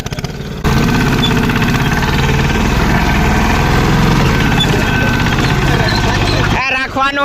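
Tractor engine running in a farm field where sesame is being sown, a loud steady diesel drone with strong low rumble that holds nearly constant for several seconds before cutting off abruptly near the end.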